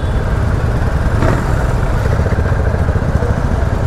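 Royal Enfield Super Meteor 650 motorcycle engine running close by, a loud, steady low rumble with throbbing pulses held throughout.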